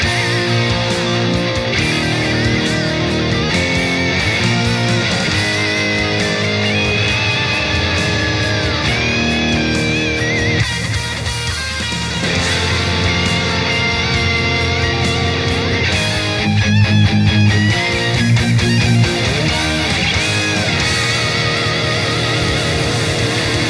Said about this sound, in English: So the chords under the solo sound like this.